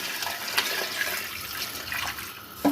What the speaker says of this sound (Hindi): मैं इसमें डाल रही हूँ 3 गिलास पानी